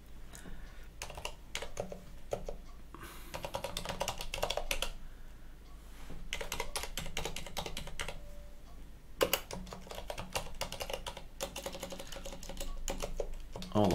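Rapid clicking of fingers typing on a computer keyboard during a Linux desktop install, coming in quick bursts separated by short pauses, close and fairly clear.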